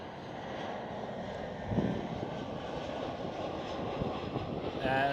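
An EasyJet Airbus A320 airliner landing at Amsterdam Schiphol gives off a steady, moderately distant jet engine roar with some wind buffeting the microphone. The whine rises slightly toward the end.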